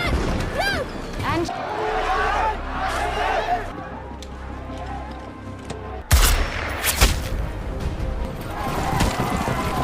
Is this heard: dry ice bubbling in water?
no